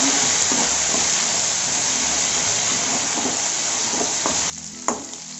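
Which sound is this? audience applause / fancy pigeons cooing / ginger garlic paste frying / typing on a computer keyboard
ginger garlic paste frying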